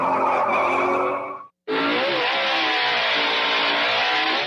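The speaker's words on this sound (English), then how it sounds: "I just love to hear a nice dragster burnout at the track" Loud, continuous roar and tire screech of a dragster burnout at a drag racing track, with a brief drop to silence before it resumes, steady and close.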